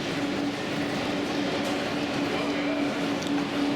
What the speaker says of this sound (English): Train at Montparnasse, the one on the left, waiting to go out to Biarritz.